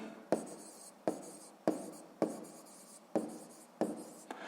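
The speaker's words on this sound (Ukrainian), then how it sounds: "записуємо відповідь" Pen strokes scratch across paper while a maths answer is written down by hand, a series of about seven short, sharp scribbles at an even pace, close and quiet.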